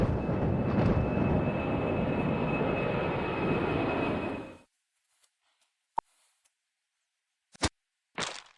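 Airplane engine roar in the video game Remember11 just before a crash, a loud sustained rumbling drone that cuts off abruptly into near silence, followed by a few sharp isolated clicks and bursts.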